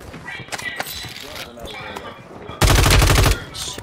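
Gunfire in Call of Duty Warzone 3: scattered distant shots, then a loud close burst of rapid automatic fire for under a second, with a player speaking around it.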